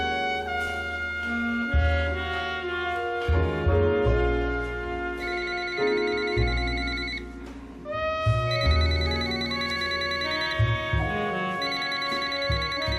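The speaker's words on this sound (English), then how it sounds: "Would you mind answering your phone?" A mobile phone ringtone rings during a student theatre performance of Dead Man's Cell Phone, a loud repeating electronic melody sounding continuously and alone for the whole stretch.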